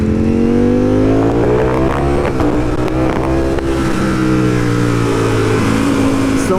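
A Ducati Streetfighter V4 motorcycle engine revs while being ridden through a city, its loud, close harmonic roar rising and falling with throttle changes and continuing without a break, with no talking.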